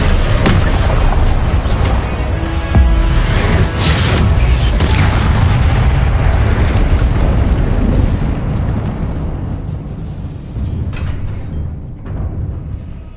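Confringo blasting spells in Hogwarts Legacy, a barrage of loud, booming explosions with crackling bursts rolling one into another close up, tapering off slightly toward the end.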